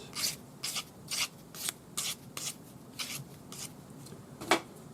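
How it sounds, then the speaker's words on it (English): Rhythmic rasping strokes of a sanding stick with 400-grit wet or dry paper rubbing back and forth on earrings, about nine even passes with a final louder stroke, close up with no talking. "Sand with your sanding stick, 400 grade wet or dry paper."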